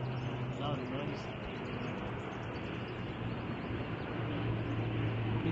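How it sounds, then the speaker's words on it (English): A large airplane passes overhead outdoors at sunrise with a steady, broad roar. Birds chirp and people talk over it. "there is a plane making this loud noise"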